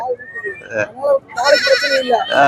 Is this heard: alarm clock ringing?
no